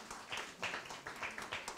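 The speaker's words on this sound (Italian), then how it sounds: "facciamo un applauso all'autore" A small audience at a literary award ceremony claps briefly for an author, a soft, sparse patter of hands heard from a distance.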